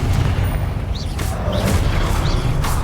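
Confringo blasting spells exploding in the video game Hogwarts Legacy: several loud, bursting booms in quick succession over a constant heavy low rumble.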